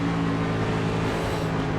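Race car engine at Pocono during an AREA Cup Series race, a steady low mechanical drone that holds fairly constant as the driver lifts off the throttle, heard alone without talk.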